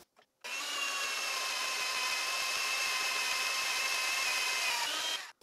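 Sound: mag-base drill press drilling quarter-inch angle iron

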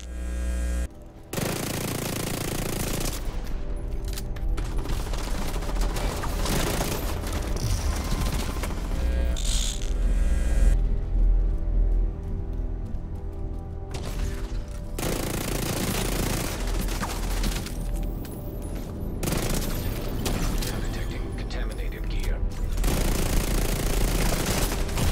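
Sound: gunfire in video game The Division 2

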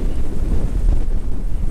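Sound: wind blowing outdoors

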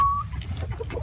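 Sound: Delaware chicken rooster

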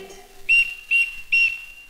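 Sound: whistle blown, tweeting sound

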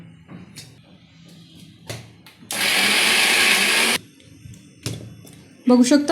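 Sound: mixer grinder blending chili, coriander and onion paste

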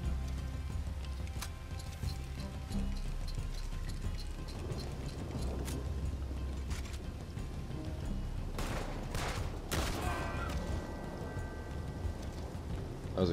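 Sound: gunshot in the video game Red Dead Online

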